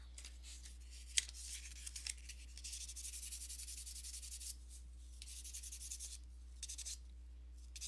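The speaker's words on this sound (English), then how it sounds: "So sand it till it's gone. Sand the other direction too." Sandpaper rubs back and forth over a joint in jewelry work, making soft, quiet scratching strokes in a steady rhythm. A few brief ticks break in near the start, and a low constant hum sits underneath.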